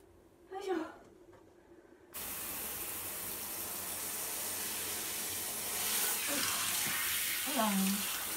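Tap water runs steadily and fairly loud while a Yorkie is bathed and shampooed at home, with a voice speaking softly over the flow.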